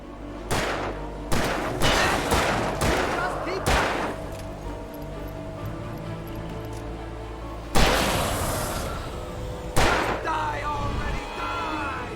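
Gunshots in the Alan Wake video game, several loud single blasts spaced a second or so apart early on, then a pause and two more heavy booms later, with game ambience and some talk between.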